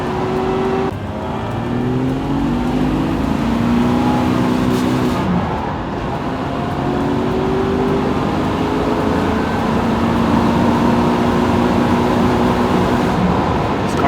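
A car engine with a fault that makes it struggle at 4,000 RPM revs steadily upward during a drive. Its close, continuous drone carries rising harmonic tones that climb and level off over a constant rumble.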